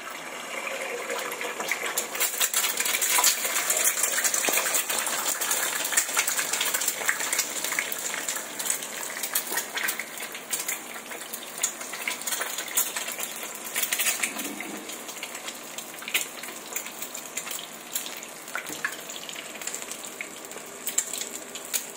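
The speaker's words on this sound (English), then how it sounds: "I can pour the egg in." An egg fries in smoking-hot oil, a steady crackling sizzle that is loudest at the start and fades slightly over time, with scattered sharp pops and no voices.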